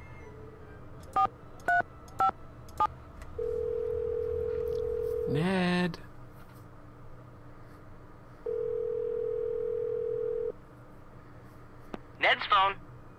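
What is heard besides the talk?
telephone dialing and ringing in Nancy Drew video game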